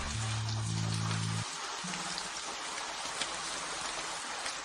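Steady rain patters and hisses throughout, with a low tonal hum briefly sounding at the start.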